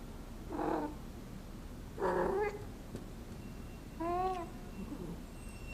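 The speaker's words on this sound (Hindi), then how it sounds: "ये देखो, ये बिल्ली कितना अजीब बिहेव कर रही है।" A cat in a Korean drama scene gives three separate short, wavering meows or yowls, spaced about two seconds apart, over a constant low background hiss.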